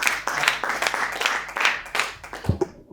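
Applause from the audience at a Hindi poetry or comedy stage event welcoming a performer, a dense burst of hand clapping that thins out and fades after about two and a half seconds.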